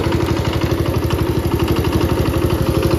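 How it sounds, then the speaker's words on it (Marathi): A tractor engine runs nearby, a steady rapid chugging pulse with metallic clatter, loud and alone with no voices. "आणि अशी काहीतरी मशीन चालतं ट्रॅक्टर"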